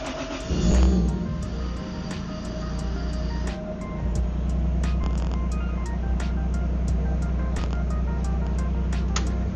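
A car engine at Santa Pod starts with a brief loud burst and then settles into a steady, close idle with a droning rumble. Repeated faint ticks run through it.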